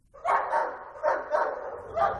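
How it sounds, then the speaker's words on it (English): Police cadaver dogs searching a remote farm bark in a run of loud, close barks, about five sharp yaps spaced irregularly with brief gaps, heard alone without talk. "using police cadaver dogs"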